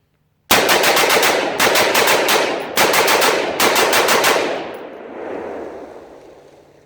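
A SIG MPX-C rifle fitted with a lightweight Tac Con trigger fires four loud, rapid bursts in quick succession, close by. Sharp clattering reports and clanging echoes trail off afterward.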